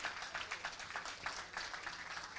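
A church congregation claps for the Crystal Squad, a dense, fairly distant patter of many hands with slightly uneven bursts, no voices over it.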